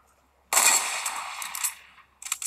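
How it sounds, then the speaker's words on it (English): A sniper rifle fires once in Fortnite gameplay, a sharp bright crack with a short ringing tail, followed by a faint mechanical rattle about two seconds later. "There, I sniped that red one."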